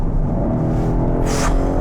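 BMW X7 M60i with its mild-hybrid V8 accelerating under throttle, a muted, distant deep engine rumble building steadily, heard from inside the cabin.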